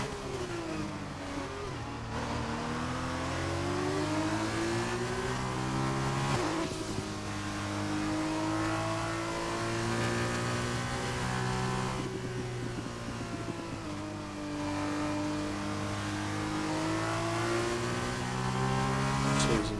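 An F2 race car engine in a racing video game screams continuously at high revs, climbing through the gears and dropping on several downshifts during a qualifying lap, loud and close with no talk.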